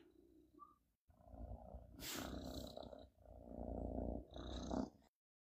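A Maine Coon kitten purrs or snores close by in steady, low rumbling stretches, broken by a brief pause and a few short higher noises.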